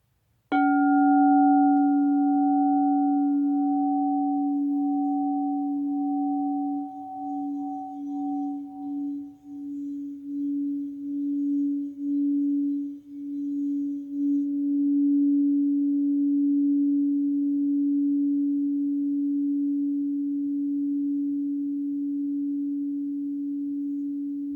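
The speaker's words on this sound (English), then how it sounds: "as we were playing that singing bowl in the shop" A singing bowl rings in a shop after a single strike, its pure sustained tone slowly wavering and fading over a long, quiet decay, heard alone.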